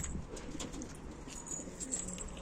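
Pigeons coo softly inside a coop, low repeated burbling calls close by over faint background noise, with no voices.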